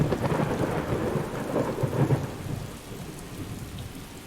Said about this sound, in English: It's what I call it, a nice typical Alton Towers rainy day.